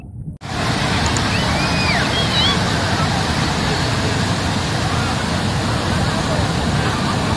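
Waterfall at Nedumozhianur, beside a giant 32-foot Kaliamman statue, pouring in a steady, loud broadband rush that starts abruptly and holds without a break, with faint voices and bird chirps in the background.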